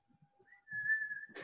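A person whistles to call a companion, giving a single thin sustained whistle, fairly quiet and close, ending in a short burst of noise.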